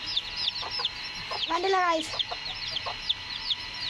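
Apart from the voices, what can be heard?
chickens and chicks clucking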